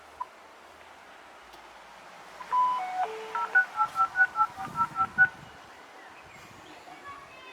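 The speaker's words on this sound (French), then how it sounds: "Je refais le numéro." A telephone redials a number, playing a quick, even run of about a dozen short beeping dial tones in the middle of an otherwise quiet stretch.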